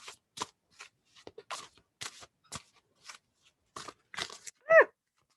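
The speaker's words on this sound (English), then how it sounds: "I'm shuffling a lot of cards" A large deck of cards being shuffled, a string of short crisp riffling and slapping bursts spaced irregularly, fairly close and alone, ending with a louder snap.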